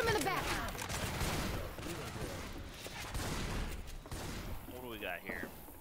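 Rapid bursts of gunfire from the zombie shooter game Left 4 Dead 2 crackle through the whole stretch, dense and loud, mixed with game noise and a voice talking over the shots.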